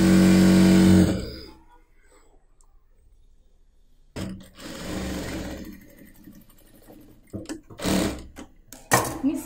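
A sewing machine stitches the side seam of a churidar in short bursts, with a loud start, a quiet pause, then several uneven runs of stitching close by.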